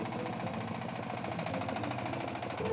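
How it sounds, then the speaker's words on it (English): A heavy truck engine labours up a steep mountain slope on China's Dragon Road, crawling at barely 10 km/h near overheating; a steady, continuous low drone with rhythmic knocking pulses, close and loud throughout. "The truck struggles on the ascent and slows to barely 10 kilometers an hour."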